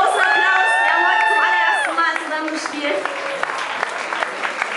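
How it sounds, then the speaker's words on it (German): A crowd at a charity concert in a Hamburg club cheers and shouts loudly, voices whooping over scattered clapping that continues more softly after the first burst of cheers fades. "Ein ganz großer Applaus."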